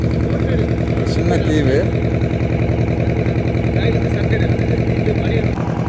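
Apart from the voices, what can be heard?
boat engine running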